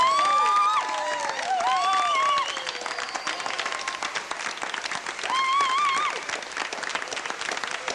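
A theatre audience applauds and cheers, steady clapping overlaid with whoops and shrill whistles that come in bursts, loudest at the start and again later on.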